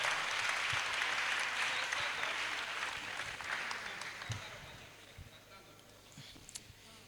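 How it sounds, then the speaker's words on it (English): An audience applauds at a business pitch session as a contestant's placing is announced, with sustained clapping that is loud at first and gradually thins and fades toward the end. "Please give her a round of applause."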